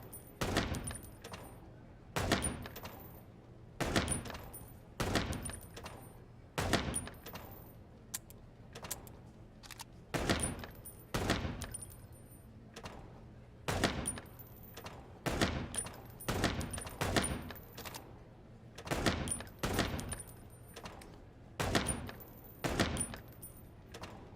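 Gunfire from the video game Chicken Police rings out in repeated sharp, loud shots and short bursts, spaced irregularly roughly every second or two, each with a brief metallic ring, over a low steady background hum.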